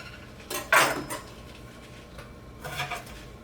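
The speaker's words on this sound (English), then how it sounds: "I'm just going to pull off the outside of a couple of these onions" A couple of onions being handled in a kitchen as their outer skins are pulled off, with two short crackling, rustling bursts separated by a quiet pause, close and fairly soft.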